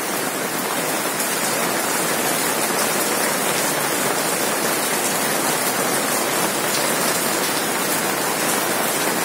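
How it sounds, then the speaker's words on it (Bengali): Heavy rain pours down in a dense, constant hiss, loud and unbroken from start to finish. "এমন বৃষ্টি, জুম বৃষ্টি আমাকে আজকে ফাঁসায় দিচ্ছে"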